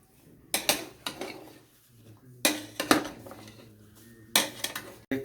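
Russian salad with peas is stirred in a bowl, giving three separate bursts of clinking and scraping spoon-on-bowl sounds with quiet pauses between them, close and fairly loud.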